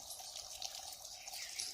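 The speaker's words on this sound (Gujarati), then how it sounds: "મોટર પણ આપણે ચાલુ કરી દીધી છે અને જો મોટર આપણે ચાલુ છે પાણી ટીપા પડે" Water trickles and drips from a running motor pump on a village farm. The sound is a faint, continuous wet patter with no talking.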